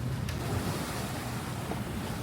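A sailboat under sail at sea with no engine running, steady rushing waves and wind buffeting the microphone, continuous and close with no talk.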